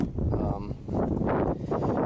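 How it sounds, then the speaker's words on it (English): Strong wind buffets the microphone in a steady low roar, with gusty swells rising and falling throughout. "you hear it's nice and windy"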